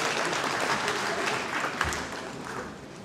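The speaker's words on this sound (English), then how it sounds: "A clap for Daktari, please." An audience of school principals gives applause at an education conference in Kenya, a dense, steady burst of clapping that stays loud throughout and tapers slightly at the end.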